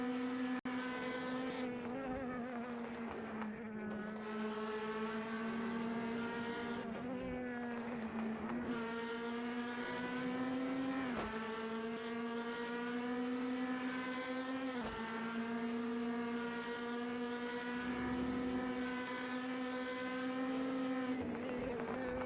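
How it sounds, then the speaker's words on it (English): Race car engine in a DTM sim racing game on an out lap, warming the tires: a loud, steady engine whine that dips at regular gear shifts, running alone without talk for over twenty seconds. "Greg Hoffert is on their out lap, warming up the tires and getting ready to put in a fast lap time"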